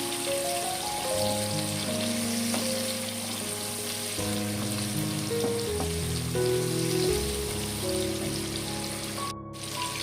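Onions frying in a pan with vegetables for a Bengali ridge gourd dish, a steady crackling sizzle like rain on a surface, close and continuous with faint clinks over it.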